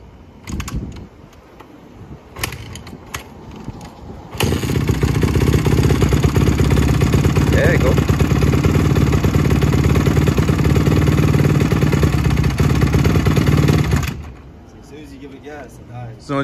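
A cold 2007 Honda CRF150R dirt bike with a new OEM carburetor that bogs on throttle starts up and idles loudly and steadily for about ten seconds, then cuts off, with brief clatter and a voice before and after.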